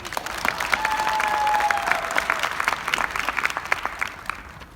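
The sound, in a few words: graduation audience applause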